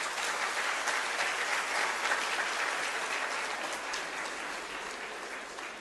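A crowd at a felicitation ceremony in Bapatla applauds with a thick, sustained roar of clapping from many people, even in loudness and easing slightly toward the end.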